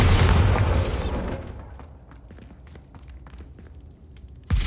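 A Bombarda spell explodes in Hogwarts Legacy with a loud, broad boom that fades into crackling debris and scattered small impacts, and a second thud follows near the end.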